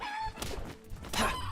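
A chicken in a video game clucks in a few short, close bursts over a faint game background.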